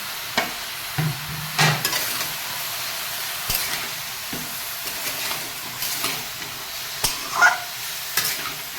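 Java plum pickle being stirred in a pan of tempered spices with salt, with scraping strokes and soft sizzling in irregular bursts, close up and with no talking.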